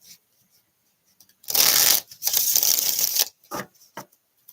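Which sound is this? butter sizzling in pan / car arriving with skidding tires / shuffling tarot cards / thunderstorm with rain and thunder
shuffling tarot cards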